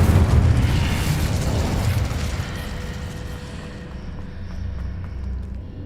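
Casting the Incendio fire spell in Hogwarts Legacy gives a heavy whooshing burst of flame up front, followed by a long, softer roaring crackle that gradually settles over several seconds.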